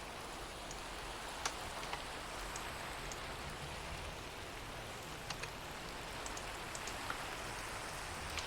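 Steady rain falls in a game world, a dense even hiss of drops with a few faint clicks scattered through, quiet and continuous with no talking.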